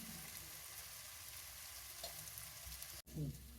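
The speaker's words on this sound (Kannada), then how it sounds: "ಕೊತ್ತಂಬರಿ ಸೊಪ್ಪು, ಪುದೀನ ಸೊಪ್ಪು ಫ್ರೈ ಮಾಡ್ಕೊಳ್ಳಿ." Coriander and mint leaves fry in a pan for egg dum biryani, giving a steady close sizzle throughout with a brief stir near the end.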